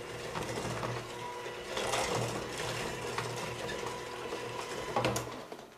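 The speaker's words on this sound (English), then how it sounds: "Now you take an electric mixer and mix it all in." Electric mixer beating light brown sugar into a batter, a steady mechanical whirring hum with irregular rattling and scraping as the beaters work, moderately quiet and continuous throughout.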